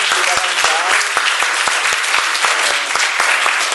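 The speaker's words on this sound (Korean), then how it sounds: "우리 큰 박수로 환영해 주세요." A church congregation at a summer retreat applauds to welcome a pastor's family, loud close clapping from many hands with crisp individual claps cutting through a dense, steady roar.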